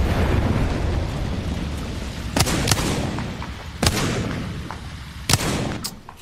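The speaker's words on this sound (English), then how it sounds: "Throwing thermite grenade." Thermite grenade bursts in a shooter video game, three sharp blasts spaced over a steady loud roar of in-game noise, with no talk.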